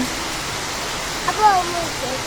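Heavy rain falls in a steady wash outside a balcony, with a brief voice rising over it near the middle.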